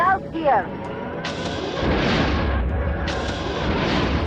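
Explosions from ground structures being destroyed in the Rogue Squadron video game form a dense, continuous rumbling roar with booming bursts. A short chirping game sound opens the clip before the blasts swell and sustain loudly to the end.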